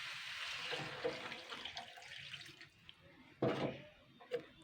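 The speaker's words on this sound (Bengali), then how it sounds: "এবার আমি জল দিয়ে দেবো।" Water is poured into a pan of Bengali fish curry with cauliflower, a soft, uneven splash and trickle with a louder gush near the end, at moderate volume.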